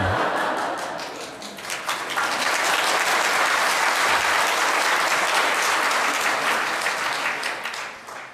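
An audience at a Catholic social teaching lecture breaks into applause that swells after a couple of seconds, holds as a dense, even roar of clapping, then tapers off near the end.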